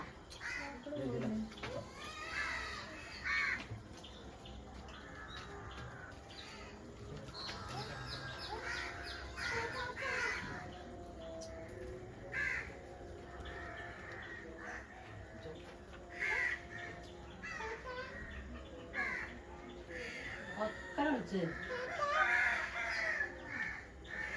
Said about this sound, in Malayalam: ഇതിക്കല്ല കാക്കയാണ് കേട്ടോ.